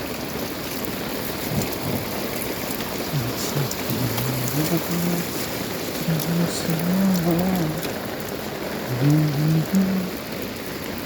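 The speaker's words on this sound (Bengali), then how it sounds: "আবহাওয়া অনেক ভালো আমার কাছে ভালো বৃষ্টি হচ্ছে" Heavy rain pours steadily over a village, a dense continuous hiss throughout, while a voice talks briefly over it in a few scattered phrases.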